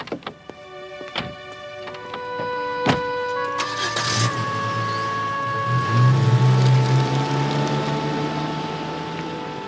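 A car scene: a few sharp clicks and thunks like doors and latches, then a motor whine and a low engine rumble that builds and holds steady, with no talk.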